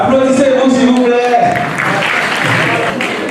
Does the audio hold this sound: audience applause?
yes